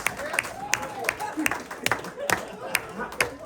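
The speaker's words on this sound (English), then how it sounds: "Let's give Pauline a round of applause" Small audience at a community advisory group performance clapping for Pauline, with sparse, distinct claps spaced irregularly across the moment while voices chatter over them.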